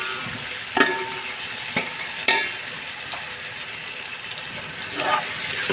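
Onions fry for fish biryani in a pan, a soft continuous sizzle with a few scattered spoon scrapes and knocks spaced a second or so apart.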